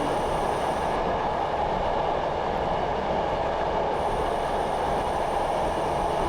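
A train running on the Stour Valley Railway between Haverhill and the next station in the Train Simulator Classic game, with a steady loud rumble of wheels and rolling stock, unbroken and with no talking.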